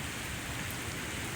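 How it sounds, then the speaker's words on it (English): Light, steady rain falls at a boggy beach house building site in Barbados, producing an even, continuous hiss without breaks. "it's not hard rain, but it just hasn't stopped"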